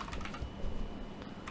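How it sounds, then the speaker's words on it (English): A short run of keystrokes as a command is typed on a computer keyboard, soft quick clicks a little way off under a steady background hiss, with no voices. "We're going to now type in CP"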